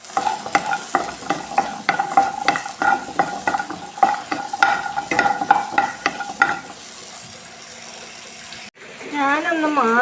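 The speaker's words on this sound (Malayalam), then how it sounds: "ഇനി ഇതിലേക്ക് ചെറിയ ഉള്ളിട്ട് നന്നായി വാട്ടിയെടുക്കുക." Shallots sautéing in a hot pan for a fish peratt with chammanthi masala, with a steady sizzle and repeated sharp scrapes of stirring for several seconds, before the frying gives way to a different sound near the end.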